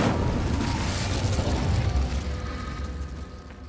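Incendio fire spell from Hogwarts Legacy on Xbox Series X, a loud roaring whoosh of flame that swells and then slowly fades, with no talking.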